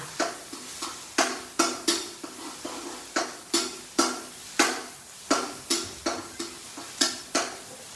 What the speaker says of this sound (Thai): กระเทียมลงไปเลย กระเทียมกับพริกที่เราตามไว้